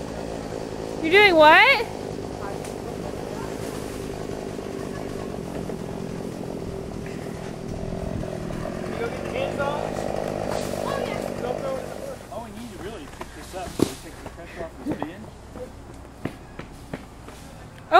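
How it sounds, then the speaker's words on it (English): Chainsaw running during a tree removal while people climb in the tree, a steady buzzing engine drone heard at a moderate distance through most of the stretch, with voices talking over it and scattered knocks toward the end. "There's Daddy's chainsaw."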